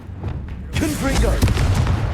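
The Confrigo fire-blast spell in Hogwarts Legacy erupts after a quiet start, a loud broadband boom with crackling debris that sustains for over a second.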